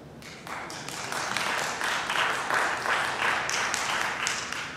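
Audience applause at a West Palm Beach mayoral debate held in Tabernacle Missionary Baptist Church, with steady, dense clapping from a crowd that stays even and moderately loud throughout.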